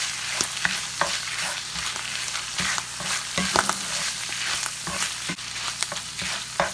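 Tomato paste is stirred into sizzling beef and mushrooms in a pan, with a steady frying hiss and repeated sharp scrapes and clicks of the utensil.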